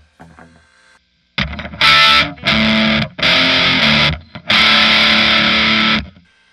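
A guitar fed through the dirty channel of a Fender Twin amp, loud and heavily distorted, with a quiet opening then four thick, sustained fuzzy chords separated by short breaks.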